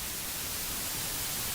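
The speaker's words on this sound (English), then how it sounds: "This is white noise." Steady broadband white noise like TV static hisses loudly and evenly throughout, with no voices or other sounds.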